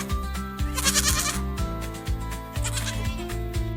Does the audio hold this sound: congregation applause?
no